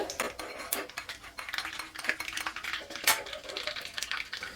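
Spices splutter in hot oil in a small tadka pan, making a continuous crackle of sharp pops and spits close up, with metallic clinks from the pan.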